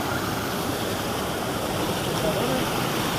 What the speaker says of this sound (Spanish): Esta es la primera cascada.